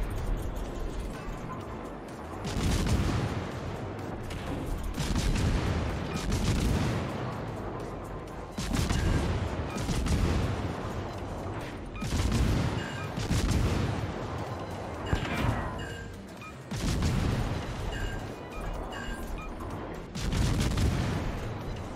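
Naval guns of the American light cruiser Worcester firing in World of Warships, heard as a string of heavy booming salvos that roll on in repeated loud waves, each followed by a brief lull, with no talking.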